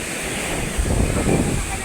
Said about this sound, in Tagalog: nandito na po ang alon